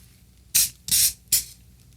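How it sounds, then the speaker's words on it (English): A stuck aerosol spray can is tested, releasing three short, loud hissing bursts with the middle burst longest, separated by near silence. "let's do a final test and see how it's spraying"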